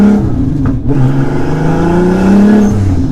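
A loud car engine revs and pulls up through the gears, its pitch rising and falling with a whooshing turbo whir, close and continuous.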